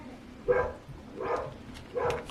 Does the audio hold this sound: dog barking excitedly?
yes